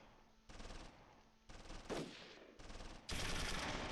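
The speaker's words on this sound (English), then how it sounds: "More shots coming out of the 3-story towards Brunner" Bursts of machine-gun fire in the World War II strategy game Close Combat III, loud rapid rattling volleys in repeated clusters, some overlapping and growing denser toward the end.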